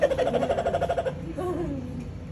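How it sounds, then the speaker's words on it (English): A kookaburra at a county fair gives a rapid, rhythmic run of hooting pulses that trails off into a softer, wavering call, close and clear with no talk. "kookaburras. Kookaburras."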